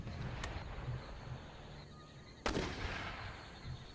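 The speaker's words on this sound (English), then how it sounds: "Yeah, large mortars," Large mortars fire across an Empire: Total War battlefield, two distinct sharp blasts about two seconds apart rising over a quiet, low background rumble.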